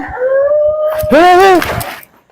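A dog howls loudly and close by at night, one long sustained wail that rises and wavers before breaking off.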